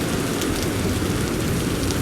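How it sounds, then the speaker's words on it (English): Rain falls steadily in the Vintage Story video game, a dense even hiss of drops with no pauses and no voices, moderately loud throughout. "there was no roof, and it was raining"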